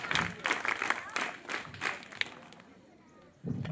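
Audience clapping for a quiz winner at a Republic Day quiz gathering, a scattered burst of hands that thins out and fades, with a voice cutting in briefly at the end.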